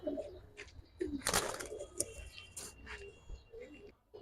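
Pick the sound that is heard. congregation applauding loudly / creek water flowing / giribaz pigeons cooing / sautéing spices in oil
giribaz pigeons cooing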